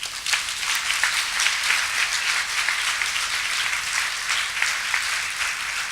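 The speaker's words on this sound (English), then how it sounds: "Please join me in giving a round of applause" Audience members at a downtown Kenosha community gathering applaud, a full continuous patter of many hands clapping that stays fairly even throughout.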